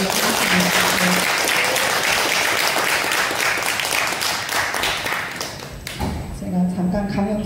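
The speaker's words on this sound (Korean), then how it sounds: "두 분에게 환영의 박수 한번 드리도록 하겠습니다." An audience claps steadily in welcome for two guests at a lecture on multicultural society, sustained applause with a few murmuring voices underneath that thins out toward the end.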